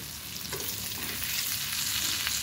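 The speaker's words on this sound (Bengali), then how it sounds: "এই যে পটলগুলো এখন সুন্দর করে ভেজে নিচ্ছি" Pointed gourd (potol) frying in mustard oil, a steady close sizzle and crackle that runs throughout, with faint stirring scrapes and no voices.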